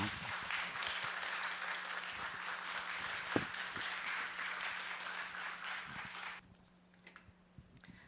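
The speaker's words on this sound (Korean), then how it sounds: "우리 큰 박수 부탁드립니다." Audience applause at a church lecture hall welcoming a recorder and theorbo duo, steady moderate clapping from a seated crowd for about six seconds, then fading to a few scattered claps and room noise.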